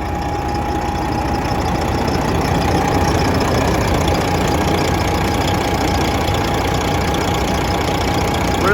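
A pre-EGR 12.7 liter Detroit diesel in a Peterbilt 389 glider idles steadily, a loud continuous low rumble with a faint whine, close and unbroken, no talking.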